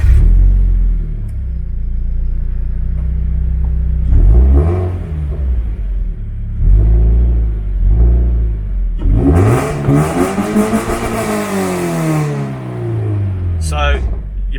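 A Toyota 2-litre straight-four with a custom exhaust and K&N induction kit idles with a deep burble, then revs hard in several rising and falling sweeps. The loudest, longest rev builds near the end, close and powerful.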